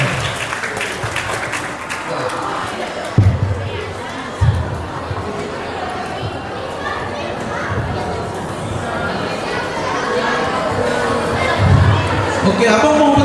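Audience applause for students at a school talk show, with crowd chatter and a few louder claps in a hall, steady throughout.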